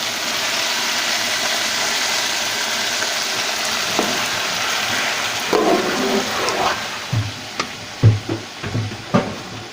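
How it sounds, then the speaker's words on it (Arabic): Boiling water poured onto pasta in a pot gives a steady hissing, rushing stream, followed by clattering and a few knocks of a pot or utensil toward the end. "هنزل بقى بالميه المغليه بتاعتي اهو."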